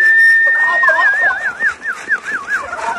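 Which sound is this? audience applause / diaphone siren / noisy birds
noisy birds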